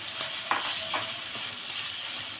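Ginger garlic paste sizzles in a hot pan for chicken, a constant close frying crackle with a few soft scrapes of a spoon stirring through it.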